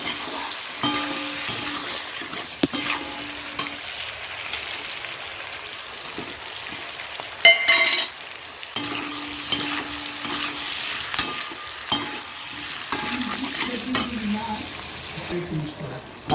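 Tomato frying in a pan with onion and sugar, sizzling steadily with repeated stirring and scraping strokes, close and moderately loud, with a few brief quiet gaps.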